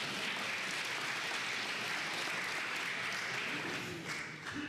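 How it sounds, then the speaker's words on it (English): Audience at a talk on resistance politics in Arkansas gives sustained applause, a dense even patter of many hands that fades slightly near the end. "Yeah, you can clap for that. I'll clap for that."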